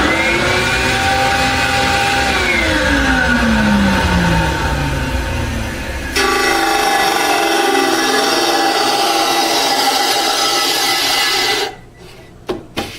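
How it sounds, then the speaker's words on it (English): Disc sander and shop vacuum plugged into one outlet in a workshop during a custom electric guitar build, whining loudly and steadily with a motor pitch sweeping up at start-up, a second machine joining midway, then both spinning down near the end. "have the vacuum cleaner and the disc all plugged into one outlet down here, and I'll just fire it up for a second"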